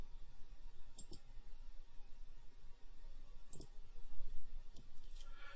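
A computer mouse clicks a few times, sharp and faint, spaced out over a low steady hum with no talking.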